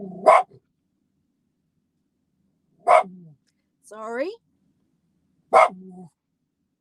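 Three sharp dog barks ring out a few seconds apart, close and loud, with a brief spoken word between them.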